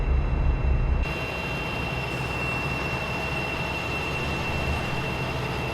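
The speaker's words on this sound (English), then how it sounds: "Is that a train or something?" A train rumbles past in a trucking video game, a heavy low drone with a steady mechanical hum that continues after an abrupt shift in the background noise about a second in, with no talking.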